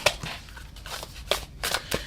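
A deck of tarot cards being shuffled by hand, with soft papery riffles and slaps in irregular bursts, close and quiet, with no talking.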